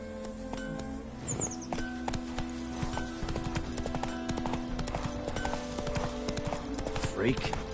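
Roach, Geralt's horse in Witcher 3, gallops with continuous rhythmic hoofbeats over layered game music and ambience, while a person talks over it.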